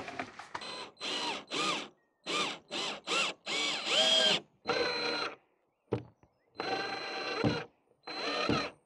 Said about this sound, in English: just got to drill through these pilot holes again from the other side